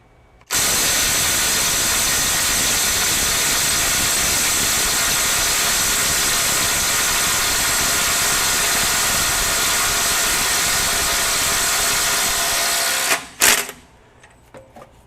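Kobalt 24V brushless impact driver on a 4 Ah extended-run battery hammers steadily at a stuck bolt, a loud, continuous rattling drone lasting about twelve seconds before cutting off abruptly, followed by a few faint clicks.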